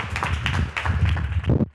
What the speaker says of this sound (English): So let's all clap our hands for him.